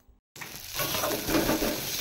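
A kakrol bora mixture fries in a kadai over a medium flame while being stirred, giving a close, steady sizzle with scraping that starts abruptly after a brief silence.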